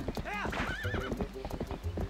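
Horse hooves clip-clopping at a gallop in the Zelda Twilight Princess video game, with neighs and whinnies over a steady in-game background and a voice speaking throughout.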